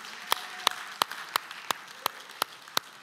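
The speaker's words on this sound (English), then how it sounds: "Come on, let's give a round of applause for our campuses." Church clapping at Two Rivers Church, heard as about eight crisp, evenly spaced claps in a steady rhythm, fairly close, with no talk over them.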